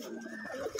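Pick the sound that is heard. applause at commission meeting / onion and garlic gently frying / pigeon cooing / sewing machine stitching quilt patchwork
pigeon cooing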